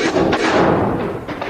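A matchlock gun fired at a castle: one heavy, booming blast that rolls on for more than a second before it fades.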